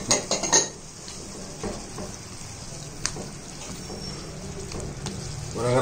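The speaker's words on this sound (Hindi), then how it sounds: "अब आप इस कीमे के साथ साथ इसमें दही का इजाफा कर दीजिए" Keema cooks with yogurt in a karahi, giving a soft steady sizzle, with a few clanks of utensil against the pan at the start and occasional light scraping as it is stirred.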